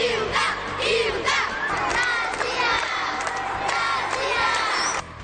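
Student supporters from a school cheer at the opening of the municipal student games in Itapetininga, a loud, dense crowd chanting and shouting without pause.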